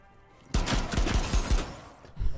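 Gunfire from the Rainbow Six Siege video game crackles in a quick burst of several rapid shots, loud and close, fading out before a final lone report.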